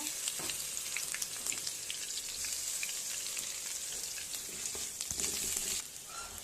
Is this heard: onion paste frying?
yes